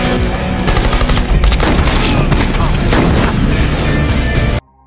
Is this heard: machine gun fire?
yes